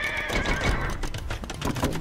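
Horse neighing in the video game Age of Empires II, a loud whinnying call that rises and wavers over a clatter of hooves and battle noise, up close and dominant.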